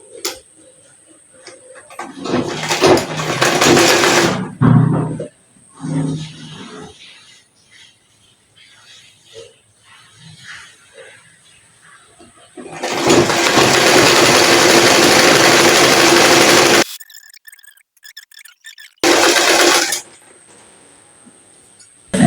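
A sewing machine stitches down a folded hem on pajamas, running in two loud bursts, the longer one about four seconds, with quieter ticks and handling noises between them.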